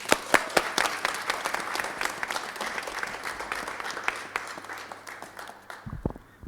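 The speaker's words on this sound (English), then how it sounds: "Can we please give a round of applause for our mayor, Mayor Brandon Scott." Sustained crowd applause at an outdoor festival announcement for a city mayor, sharp individual claps standing out over a dense wash before it abruptly drops away near the end.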